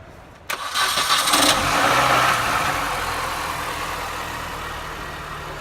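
A small car engine, boosted by a NOCO GB150 jump starter, cranks briefly then catches and roars up before settling into a steady, loud idle close by, with no talking.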